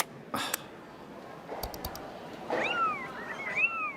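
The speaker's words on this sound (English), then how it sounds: "I can hear you watching cat videos." Cartoon cat meows play from a device in an animated scene, several short rising-and-falling mews near the end after a few clicks and brief blips, faint against a quiet background.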